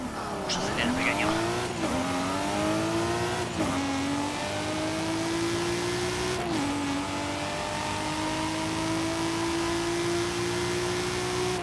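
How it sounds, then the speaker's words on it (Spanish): A car in the video game Forza Horizon 5 accelerating hard, its engine climbing in pitch and dropping briefly at each gear shift, loud and steady throughout. "Vamos a acelerar, pequeño."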